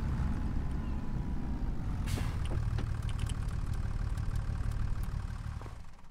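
A tractor engine idles in the Farming Simulator 25 video game, a steady low rumble that runs throughout, with faint clicks and a brief hiss of air near the start.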